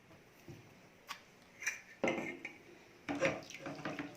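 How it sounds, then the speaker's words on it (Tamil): A spoon clinks and scrapes against a vessel while crushed pepper, cumin and garlic are stirred into tamarind water for rasam, a few sharp metallic taps and scraping strokes spaced irregularly, fairly close and quiet. "மிளகு சீரெல்லாம் போட்டதுக்கப்புறம் நல்லா கரைச்சி விட்டுடுங்க"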